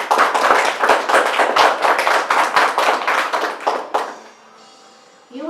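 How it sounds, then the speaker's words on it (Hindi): Congregation at a Holy Mass for the feast of St. Monica clapping hands together for about four seconds, a dense, lively burst of applause that stops abruptly, leaving a quiet room with faint tonal hum. "एक बार ताली बजाइए।"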